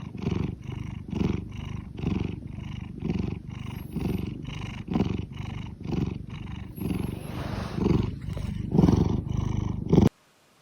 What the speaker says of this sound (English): purring like a motorcycle next to me while I'm working on the couch